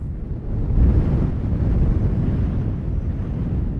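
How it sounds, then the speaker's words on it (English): Strong wind gusts buffet the microphone with deep, rumbling roars that swell and ease, continuous and loud, with no voices. "On the last hours of daylight, gusts of wind started to appear."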